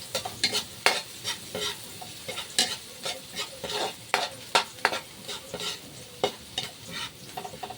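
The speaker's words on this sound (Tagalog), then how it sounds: "Isa natin hanggang mag-golden brown ang ating bawang." Garlic and onion sauté in a pan, a continuous sizzle broken by rhythmic spatula stirs and scrapes, close and lively, with no talk.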